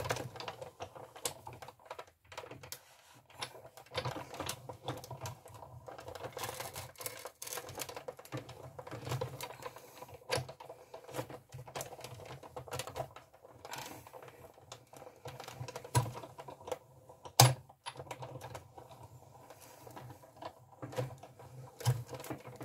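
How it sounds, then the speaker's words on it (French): Thick white paper cranked through a Big Shot die-cutting machine: a faint, steady clicking and rattling runs throughout, with one sharper click near the end. "Ma machine, c'est une Big Shot."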